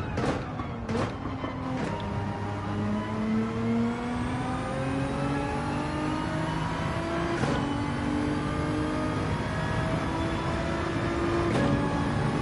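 A Porsche race car engine in Gran Turismo 7 revs hard and steadily throughout, rising through the gears with several sharp shift breaks, loud and close, without any talk.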